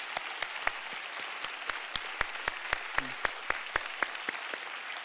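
Sparse, distinct handclaps from a church congregation welcoming an elders' choir, individual claps spaced out in a loose rhythm over a quiet room, with a brief murmur partway through.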